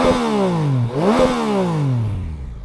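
A 2023/24 Yamaha MT-09 SP motorcycle engine revs up and down twice, pitch sweeping low then high then falling, loud and close with no talking.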